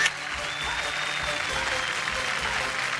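Audience applause for a musical chairs prize winner at a women's game show, a steady full wash of many hands clapping, fairly close and constant, with a faint murmur underneath.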